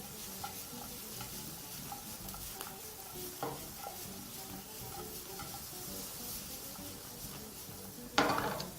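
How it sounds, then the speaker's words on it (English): Onions frying in a pan for a spiced bulghur pilaf, a steady sizzle with intermittent stirring and tossing clatter throughout, and a louder scrape or knock of the pan near the end. "add your onions into your pan and proceed to fry them, of course tossing your pan or mixing with a spoon"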